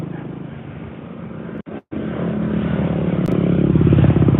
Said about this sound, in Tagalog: Madami nagmo-motor.